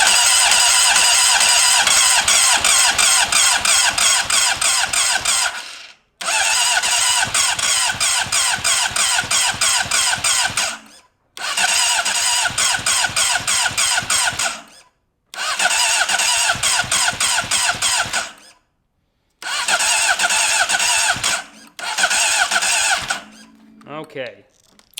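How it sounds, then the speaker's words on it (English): A wrecked Honda CBR600RR sport bike engine cranks in five long bursts separated by short pauses, the starter whirring fast and even with no compression and no firing, loud and close. "I just want to see if it fires up."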